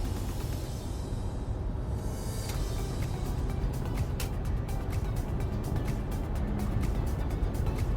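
A 2009 Audi Q7 with a 3.0 diesel engine and automatic gearbox drives along a highway, giving a steady low road and engine rumble from inside the car, with no talk.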